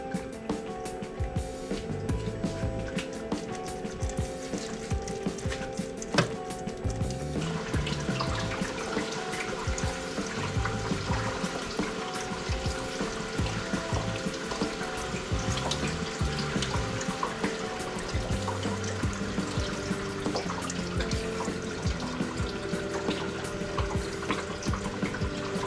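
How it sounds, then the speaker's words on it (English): Coolant pours into the cooling system of a BMW 528i F10 during a thermostat replacement, a steady trickling, splashing flow of liquid that runs close and continuous throughout. "Add some more coolant."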